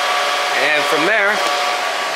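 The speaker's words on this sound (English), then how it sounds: "turn your machine on. Fans will start up." A Goldshell CK5 ASIC crypto miner's cooling fans spin up into a loud, steady rushing whoosh. A wavering tonal whine rises and falls briefly on top of the airflow, then settles as the fans run on.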